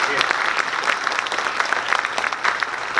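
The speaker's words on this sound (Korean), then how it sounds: "박수로 한번." An audience at a Korean textile and fashion industry New Year gathering applauding, a dense patter of many hands clapping steadily throughout, fairly loud and close.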